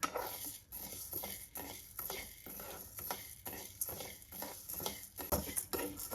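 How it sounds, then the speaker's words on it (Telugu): Chana dal and urad dal dry-roasting in a kadai, stirred with a spoon: a steady run of scraping, rattling strokes close by, repeating at an uneven rhythm. No one speaks. "స్టవ్ ఆన్ చేసుకొని బాండీ పెట్టుకొని అందులోకి శనగపప్పు, మినప్పప్పు వేసుకొని దోరగా వేయించుకుందాం"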